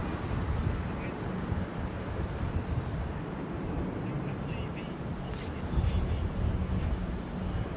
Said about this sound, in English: Is this her first landing back at London Heathrow?